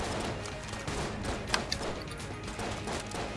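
Rapid bursts of gunfire from the video game Enter The Gungeon, a dense continuous barrage with a few sharper pops standing out, fairly loud and without talk.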